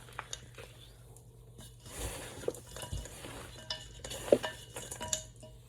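Potato chip cookie dough being mixed with butter in a bowl: faint, irregular scrapes, soft squishes and occasional clinks of a utensil, quiet and close with no talking.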